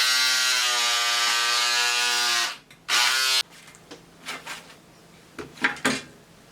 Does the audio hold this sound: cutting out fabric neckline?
yes